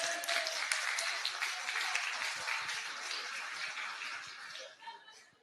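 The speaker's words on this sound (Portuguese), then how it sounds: "Uma salva de palmas." An audience at a talk bursts into a dense wash of clapping that holds steady for several seconds, with a few chuckles in the room, before easing off at the end.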